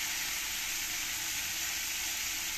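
Koi fish frying in oil over medium heat, a steady soft sizzle that hisses on evenly and fairly quietly throughout, with no talking.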